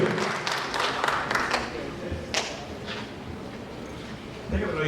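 An audience applauds Colombian tour guide Julio Ernesto Gómez as he is honoured by Mexico's Association of Certified Tour Guides. The clapping is a steady, dense wash with a few sharper hits and a voice mixed in.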